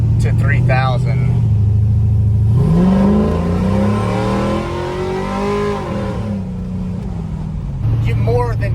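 A car engine fitted with a new FTI stall converter climbs quickly to about 3,000 rpm on a closed course, a loud rising drone and rumble heard from inside the car. Someone talks over it throughout.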